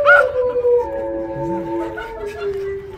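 A dog howls in drawn-out, wavering tones, fairly near and alone, during an outdoor western comedy skit, with faint background noise.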